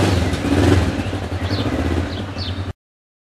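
A 2009 Kawasaki Ninja motorcycle engine running steadily up close while riding, a continuous low throbbing drone with slight pulsing for about 2.7 seconds before cutting off abruptly.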